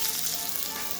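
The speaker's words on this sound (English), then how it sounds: "Stir frying my veg" Vegetables stir frying in a pot make a steady, close, dense sizzle that continues without a break for about a second, with no voices.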